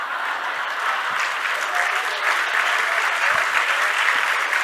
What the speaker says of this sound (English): she has to give me a round of applause for whatever I say